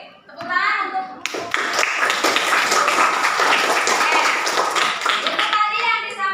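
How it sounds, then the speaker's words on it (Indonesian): A classroom of children applauds together, a dense burst of hand clapping lasting several seconds, close and loud, with children's voices just before and an adult voice at the end. "Tepuk tangan untuk."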